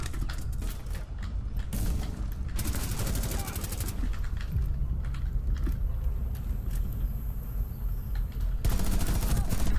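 Rapid gunfire bursts in Rainbow Six Siege, clustered volleys and sharp shots over a busy mix, with players talking throughout.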